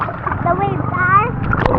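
Sea waves splashing on a shore in Masbate, a short burst of close sloshing water heard under excited voices talking loudly.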